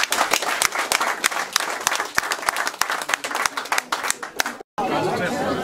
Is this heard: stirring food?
no